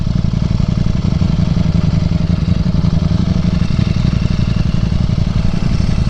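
A Street Fighter V4 motorcycle engine running steadily and loud, close by, with a continuous throbbing, even mechanical drone and no clear revving changes.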